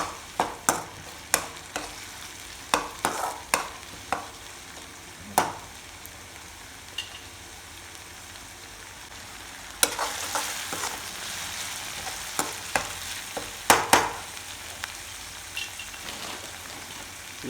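Tomatoes and curd fry in a pan for a fish curry, a soft steady sizzle broken by sharp spatters and stirring clicks, with a louder burst of crackling midway.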